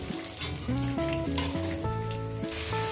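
Lailon fish pieces frying in hot oil give a steady, loud sizzle, with tonal, musical sounds running over it throughout and no one talking.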